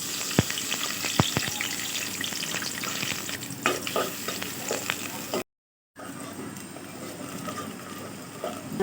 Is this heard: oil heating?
yes